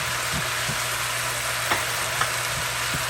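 Steady sizzling of potatoes and Brussels sprouts frying in a pan, with a few light clicks and stirring taps over the constant hiss.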